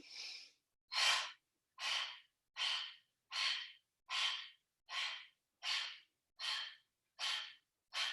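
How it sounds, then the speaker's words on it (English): Deep, steady breaths drawn in through the nose during a yoga core session, about a dozen close, loud airy inhales and exhales in a slow even rhythm with no speech. "Big breath into the nose. Exhale, release."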